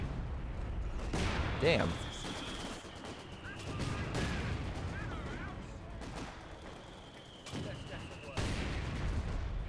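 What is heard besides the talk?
mortar fire in video game Company of Heroes 2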